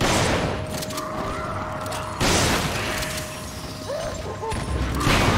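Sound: gunshots in video game Resident Evil 5

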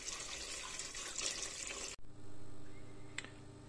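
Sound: pouring water into a pot with pork trotter

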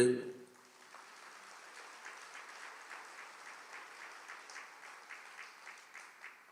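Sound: audience clapping hands

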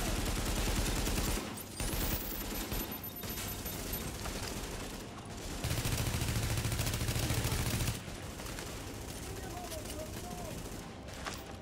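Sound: gunfire in the video game Tom Clancy's The Division

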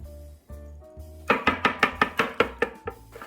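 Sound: whisking eggs for a lemon cake batter

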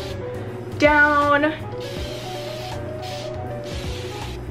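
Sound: spray bottle spraying water on hair

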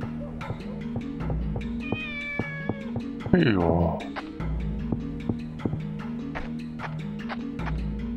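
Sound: cat meowing in the Shenmue video game

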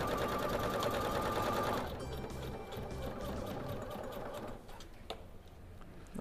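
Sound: sewing machine stitching with roller presser foot

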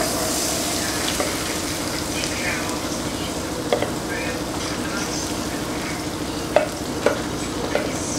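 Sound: sautéing onion in a pan

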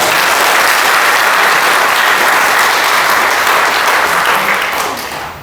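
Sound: applause

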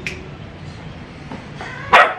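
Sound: dog barking on the speak command

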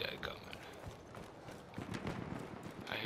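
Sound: footsteps in a video game

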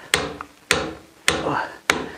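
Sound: hammering, driving in by hand

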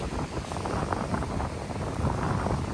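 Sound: wind on the beach

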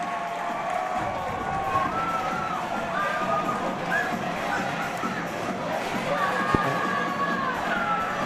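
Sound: ice hockey crowd cheering

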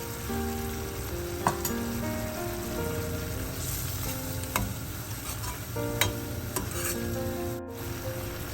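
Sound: brinjal curry cooking after adding thick coconut milk

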